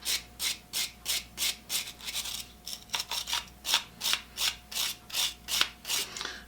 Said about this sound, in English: I'm using a brass wire brush so I don't damage those threads